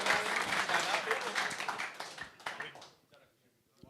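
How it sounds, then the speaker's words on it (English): An indoor crowd applauds four guests at the live-streamed Carlton football club draft, a dense, steady burst of clapping that thins out and fades to near silence by the end, with voices mixed in. "I think a big round of applause for our 4 guys that are here"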